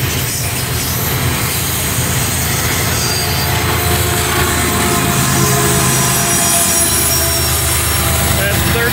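CSX eastbound container freight train with a helper locomotive rolling past close by, a loud continuous rumble of wheels and cars with squealing and grinding from the rails, no voices.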